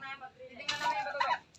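Young turkey poults chirping in a small group, high thin peeps rising in a brief burst midway, close by and fairly soft, with faint farmyard background.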